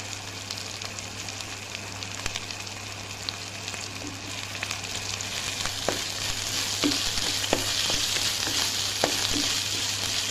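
Ginger, garlic, onion, coriander leaves, curry leaves and green chilli sautéing in a pan, a dense constant sizzle with a low hum beneath, occasional spatula scrapes growing louder toward the end.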